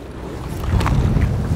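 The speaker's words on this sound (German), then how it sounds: "Da draußen pfeift der Wind." Wind whistling outside during a sailing boat race, a loud gusty rush and rumble with brief higher whooshes, heard alone over a short stretch.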